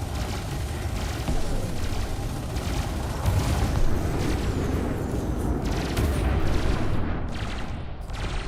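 Multi-cannon fire from a Python MkII ship in the space combat game Elite Dangerous, a dense, continuous rumbling barrage of rapid booms that holds steady throughout without talk.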